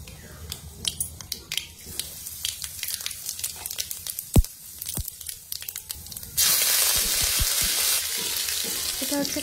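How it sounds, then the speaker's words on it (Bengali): Tempering spices hit hot oil in a kadai (wok), first scattered sharp crackles and pops, then a sudden loud, steady sizzle that fills the rest, close and without speech. "আমি কড়াইতে তেল দিয়ে দিয়েছি আর ফোড়নের সমস্ত মশলা আমি এর ভিতরে এক এক করে দিয়ে দিচ্ছি"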